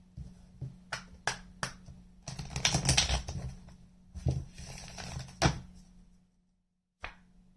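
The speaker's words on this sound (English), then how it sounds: "Getting one more shuffle." Tarot cards are shuffled close by in quick bursts of crisp riffling and slapping, with sharp taps in between and a brief pause near the end.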